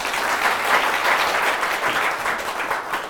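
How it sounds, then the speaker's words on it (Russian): Audience applause at an artist's master class, a dense, steady wash of many hands clapping together, loud and continuous throughout with no voices over it. "опять же, под ваши аплодисменты."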